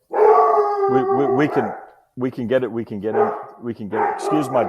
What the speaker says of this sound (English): I think it's just he'll bark at my neighbors when they're bringing their dog out in their yard across the street